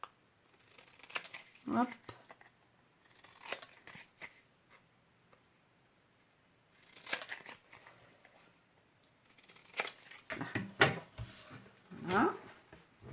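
Scissors cutting the corners of paper in short snips and rustles, close and intermittent, with a person speaking between the cuts.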